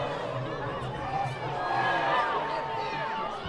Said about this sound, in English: CBA visiting crowd getting into it, so are the cheerleaders